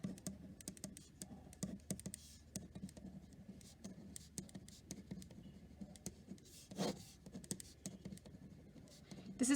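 Writing out a tangent identity for a sum and difference lesson makes soft, steady scratching and tapping strokes, faint and close, with no talk over them.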